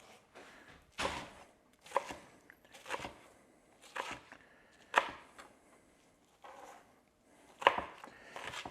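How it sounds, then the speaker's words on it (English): A knife chops onions on a cutting board in a home kitchen, with about a dozen crisp, uneven strikes spaced roughly a second apart, close and clear against a quiet background. "the onion. Same thing here, just chopping them up."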